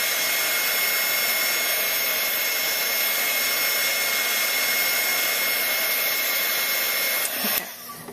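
Steady loud whirring blast of a heat tool melting clear embossing powder on card, a constant airy drone held for several seconds, then clicked off near the end.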